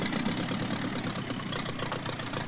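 A tractor engine idles steadily in Farming Simulator 19, with a low, even rumble that holds with no changes in revs and no voices.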